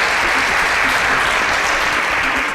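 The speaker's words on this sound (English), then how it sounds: "A round of applause for Ekene's dad for inspiring him." Audience applause at a quiz show fills the space with steady, dense clapping at constant loudness throughout, with no voices over it.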